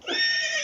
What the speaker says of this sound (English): It was a horse.